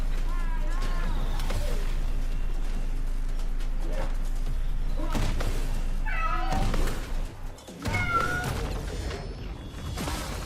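A cat meows repeatedly in short, agitated bursts, fairly close but partly buried under loud, busy game music and effects from Clair Obscur: Expedition 33.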